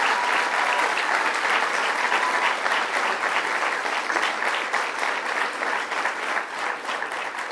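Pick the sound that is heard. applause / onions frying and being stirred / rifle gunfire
applause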